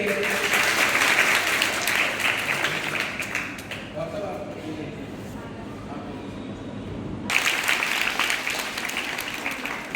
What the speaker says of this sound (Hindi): अंजलि मांगीलाल उपस्थित है, तालियां बजाइए